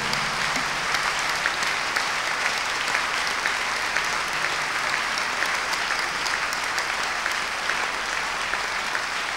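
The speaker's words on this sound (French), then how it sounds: "Acclame très fort Jésus." A church congregation claps and cheers for Jesus in sustained, dense applause filling the room, steady and fairly loud throughout with no clear speech over it.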